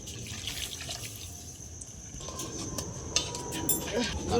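Half a litre of milk poured into a pan in a home kitchen while making bread rasmalai, a soft liquid trickling and splashing that grows fuller toward the end, with a few clinks and a voice speaking.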